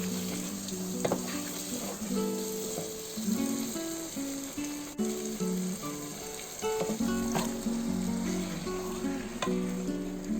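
Chicken with salt sizzles steadily in a pan for a bathua chicken curry, with spoon stirs clattering and scraping at intervals over the close, constant fry.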